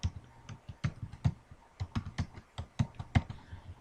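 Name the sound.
typing a password on a computer keyboard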